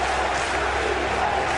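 In a Patriots football stadium, a massed crowd keeps up a steady, loud roar, continuous and broad with no separate voices or clear chant beats.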